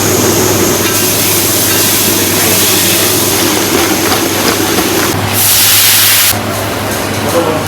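Fresh Padma hilsa fish fry in hot oil in Bangladesh, producing a loud, continuous close hiss that surges briefly louder near the end.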